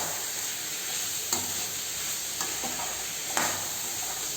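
Mushrooms sautéing in a pan for a hotel-style white kurma, a continuous close sizzle of frying with a few sharp clinks of a spoon stirring against the pan, no talking.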